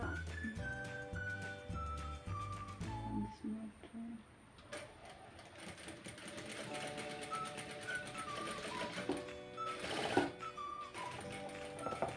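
A sewing machine stitches a T-shirt being upcycled, in bursts of rapid mechanical whirring with stops between runs, close and fairly quiet, with faint background music-like tones.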